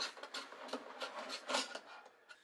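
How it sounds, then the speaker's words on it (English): Hand-stirring paint mixed with reducer and metal flake in a small jar, a faint scraping and rubbing of a stir stick against the container in irregular strokes, close up and quiet. "I don't have a paint shaker, so we're just going to stir this"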